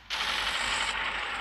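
A New Holland tractor runs in a 3D tractor simulator game, giving a steady, dense mechanical drone that starts abruptly and holds evenly with no talking.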